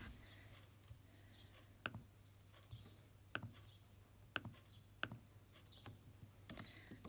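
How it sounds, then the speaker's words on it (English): Keystrokes on a computer keyboard click out in sparse, irregular bursts over a steady low electrical hum, fairly close and quiet, with no talking. "Now I'm going to type it out because it's easier for me."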